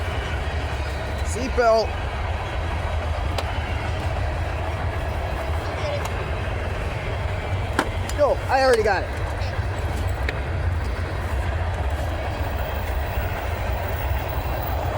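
Norfolk Southern mixed freight train at Glendale Park in La Crosse, Wisconsin, a steady low rumble of rolling cars with brief wheel squeals, heard from nearby under a short exchange of talk.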